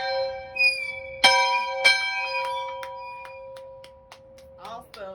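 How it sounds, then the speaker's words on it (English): A large school bell tower bell struck several times, each loud ring sustaining a long humming tone that fades slowly, with a few lighter ticks afterward and brief distant voices near the end. "Energy you get from ringing that bell."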